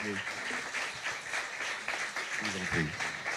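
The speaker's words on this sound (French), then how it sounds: "Mesdames et messieurs, vos applaudissements," A crowd at an official reception in Guadeloupe applauds steadily throughout, a dense wash of clapping, while a French-speaking voice speaks over it near the start and again toward the end.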